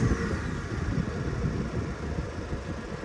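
A Chevrolet Colorado overland build on 37-inch tires with a Baja wide-track kit idles its 2.8-liter four-cylinder turbo diesel, giving a steady, close, throaty rumble with no voices.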